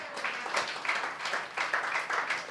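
A church congregation claps hands loudly together, a dense, steady patter of many palms with rhythmic surges, heard fairly close in an indoor hall.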